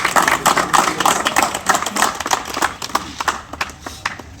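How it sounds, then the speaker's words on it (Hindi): A crowd claps to welcome guests at a community gathering, with a dense run of hand claps that thins toward the end into scattered individual claps. "ताली ताली ताली।"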